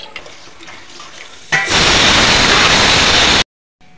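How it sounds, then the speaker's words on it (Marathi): Water is poured into a pot of Malvani-style village chicken curry, a loud, steady rushing pour lasting about two seconds before it cuts off abruptly. "चवीनुसार थोडंसं मीठ घातलेलं आहे, त्यानुसार पाणी घालायचं आहे।"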